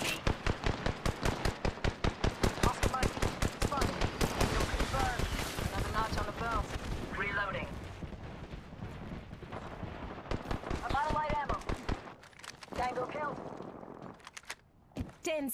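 Rapid automatic gunfire in a battle royale video game rattles in fast, dense bursts for several seconds, with more volleys later and a player's voice talking over the shooting.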